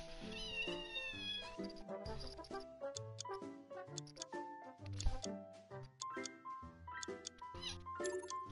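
A pet cat meows repeatedly against a busy background of pitched tones and tapping sounds, the cries fairly faint and mixed in rather than alone.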